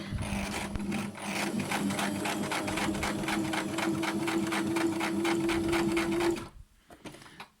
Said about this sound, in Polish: Jeżeli nam igła wchodzi i o nic się nie zaczepia, ani o guzik, ani o stopkę, przyszywamy.